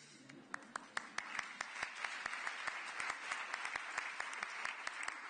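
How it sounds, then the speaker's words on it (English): An audience at an innovation convention talk applauds steadily, a dense wash of many hands clapping with sharper individual claps standing out, fairly loud throughout. "By the way, normally I get an applause here."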